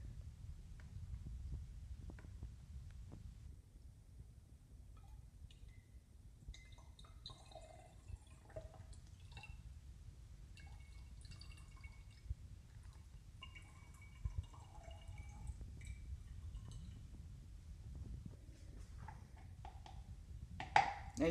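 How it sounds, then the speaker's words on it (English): Water poured into a Monster hand-held steamer, a faint, steady trickle and drip filling the small vessel over a low background hum, quiet and close throughout. "we're gonna take the water and put it inside here."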